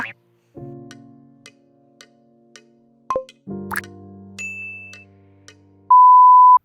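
Mobiblue BE02 wireless earbuds power on and connect, giving a sequence of clear electronic chimes and tones that ends in a sustained beep, with faint clicks between them.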